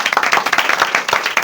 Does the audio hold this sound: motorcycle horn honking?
no